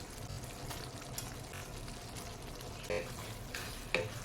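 Banana flower stirred into simmering tamarind kuzhambu in a pan, a low bubbling sizzle with scraping stirs and a couple of sharper clinks of the spoon near the end.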